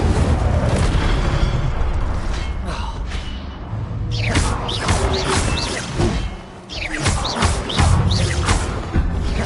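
Incendio fire spell blasts in the video game Hogwarts Legacy: several sharp whooshing bursts and booms fire in quick succession over a busy background of game effects.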